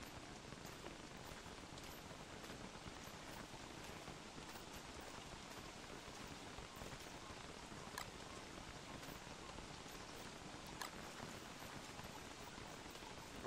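Rainfall in the survival video game Don't Starve, a steady, faint hiss of drops pattering evenly throughout with occasional sharper ticks and no speech.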